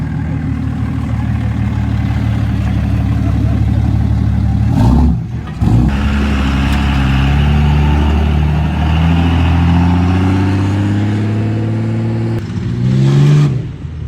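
A $100K SEMA show truck's engine revs on a motocross track built for monster trucks, with repeated climbing and falling revs over a loud, throaty idle, including a brief sharp drop in the middle, close and alone.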